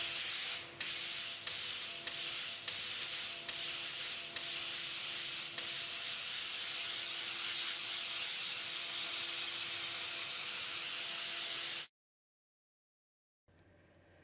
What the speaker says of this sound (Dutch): Leg het textiel op de afzuigtafel en zet de afzuiging aan. Stoom van buiten naar binnen om de vlekken te verwijderen.